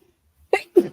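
A short burst of sound, then a second, louder one right after, like a quick sneeze or two, close by with no talking around it.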